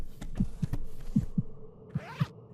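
Low, thudding heartbeat pulses from the horror video game Petracal, set in caves, come in paired double beats, repeating steadily and up close, with a brief scraping swell near the end.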